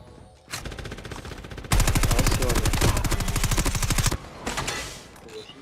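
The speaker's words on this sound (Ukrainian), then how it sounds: "Один з даху стріляє." Automatic gunfire in an online shooter game rattles in dense rapid bursts from a rooftop, loud and close, with a long sustained volley in the middle and shorter strings around it.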